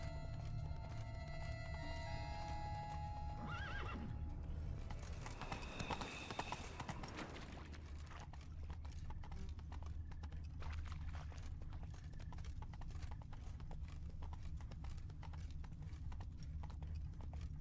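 Hooves clip-clop steadily over rumbling ambience in The Witcher 3: Blood and Wine, with a brief burst of noise in the middle; a horse's whinny is faint if present at all.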